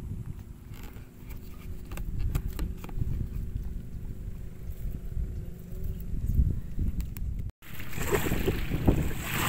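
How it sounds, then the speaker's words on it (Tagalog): Steady roar of strong wind buffeting the microphone outdoors on the sea ahead of a super typhoon, with rain, broadband rushing noise and a brief dropout near the end. "lumalakas na yung hangin saka yung ulan"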